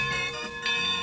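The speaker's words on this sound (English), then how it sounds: "Why is that bell ringing?" A bell rung by pulling a rope rings with bright, overlapping metallic tones that swell and fade over a short moment, sounding close and fairly loud.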